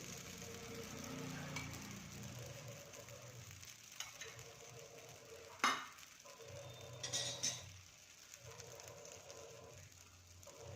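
A bread dosa fries on a pan with oil drizzled over the top, giving a faint, soft, rain-like crackle and sizzle with a few brief sharper pops and scrapes. There is no talk.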